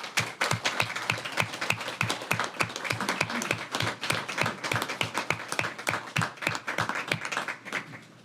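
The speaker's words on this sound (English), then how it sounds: "let's give another round of applause for Mr." Audience applause at a Gallatin city council meeting: steady, evenly paced handclaps keep going for several seconds at moderate volume, then taper off at the end.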